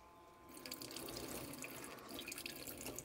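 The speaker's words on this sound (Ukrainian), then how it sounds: "Якщо подивитися, скільки води витікає тут," Water runs steadily from a drain outlet under a motorhome, a continuous splashing, trickling flow close by with no talking.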